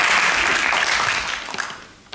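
Audience applause at a lecture, a dense burst of clapping that holds steady, then thins and fades toward the end, with no voices over it.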